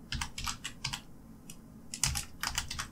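Quick, close clicking of keys on a computer keyboard as a short word is typed in bursts with a brief pause in the middle, no talk.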